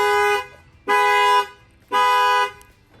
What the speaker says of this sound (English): Sets off the alarm.